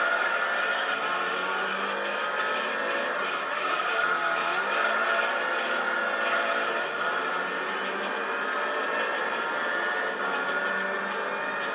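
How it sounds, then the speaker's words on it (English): Racing car engine from Gran Turismo 3 during an All Japan GT Championship race, a steady loud high-revving drone with shifting pitch that continues throughout without pause. "You will be hearing the awesome engine sound of this thing for multiple hours."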